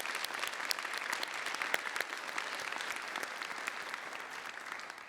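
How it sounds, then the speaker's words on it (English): Steady, fairly quiet applause from a conference audience thanking the organising team, even and continuous throughout with individual claps audible in the wash. "perhaps we could all just give a round of applause to the team"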